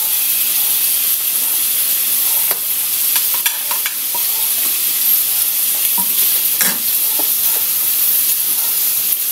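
Hotdog pieces simmer in menudo sauce in a pan, a steady close sizzle and bubbling hiss broken by scraping clinks of stirring.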